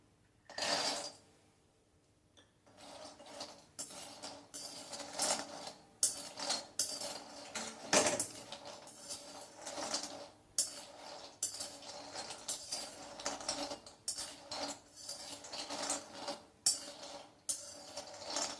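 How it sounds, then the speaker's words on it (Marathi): Cashews stirred and dry-roasted in a kadhai over a medium flame: repeated scraping and clattering strokes of a spoon against the metal pan, close and irregular, with short pauses between bursts. "मीडियम फ्लेमवर सतत हलवत आपण काजू भाजून घेणार आहोत"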